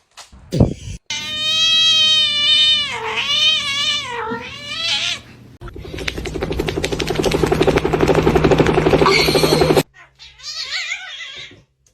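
A kitten meows repeatedly in long, rising and falling cries, close and loud, with a harsher buzzing stretch in the middle and a few short mews after a brief pause.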